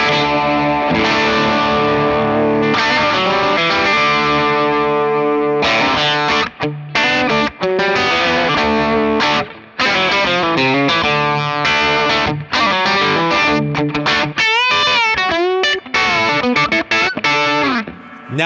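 A distorted electric guitar through an Origin Effects M-EQ Mid Booster pedal plays chords and lead lines continuously with a bright, driven tone, loud and up close with no talking.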